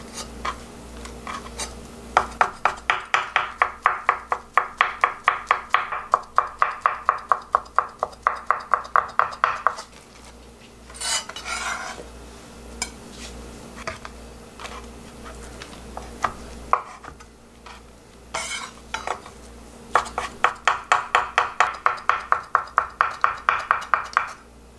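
A knife julienning carrot into thin strips on a cutting board: rapid, crisp, evenly spaced chops in close bursts of several seconds, separated by brief pauses and quieter handling noises.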